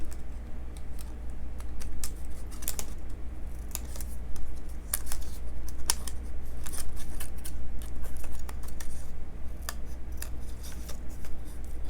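Crisp scissors snipping craft paper in quick, irregular cuts, close to the microphone, with a few short pauses between bursts over a steady low hum.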